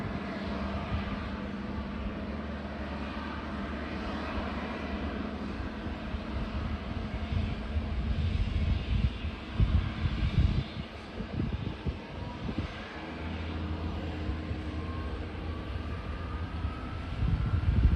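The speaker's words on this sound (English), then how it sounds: "Now I can hear the engines." Aircraft engines droning at an airport on a quiet afternoon, a steady broadband rumble that swells in the middle and carries on at a moderate distance, with some wind buffeting the microphone.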